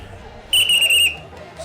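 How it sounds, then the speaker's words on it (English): A single sharp referee whistle blast of about half a second rings out over a faint murmur of crowd noise. "Surprise whistle."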